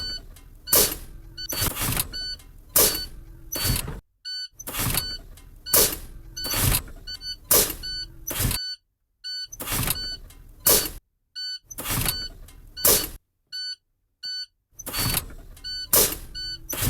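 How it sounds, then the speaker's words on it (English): A manual truck's air brake system vents pressure in a series of sharp, loud bursts of hissing air at an irregular rhythm, with an electronic warning beep sounding between the releases. "I will continue to release pressure for my parking brake to pop out."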